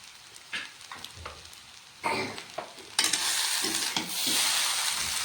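Vegetable chow mein sizzles and fries in a pan while being stirred, with scraping stirs at first, then a loud steady hiss of frying close by.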